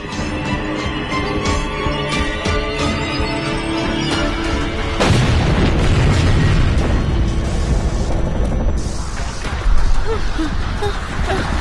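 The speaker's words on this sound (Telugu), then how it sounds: "అయ్యో బాంబు!" A bomb explodes in a dubbed disaster movie, a heavy booming blast that swells midway over a tense music score and rumbles on, with a fresh burst near the end.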